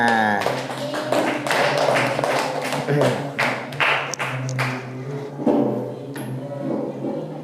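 Classroom students clap together for a lesson on clean, tidy and orderly living, a dense burst of hand taps with thuds, with a teacher's voice talking over it.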